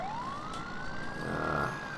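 A police siren wails from a Ford F450 police truck in a Farming Simulator game, one long rising sweep that holds steady and loud over a constant engine-like rumble, with no talking.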